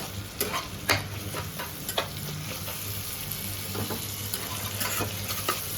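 Onions, tomato and green chilli frying in a pan on an induction cooktop, a soft, continuous sizzle with irregular scraping stir strokes and light clinks, fairly quiet and without speech.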